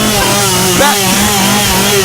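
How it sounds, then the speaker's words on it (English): Chainsaw running in a game, a loud buzzing whine that rises and falls in pitch with revving, continuous and close. "put the chainsaw away!"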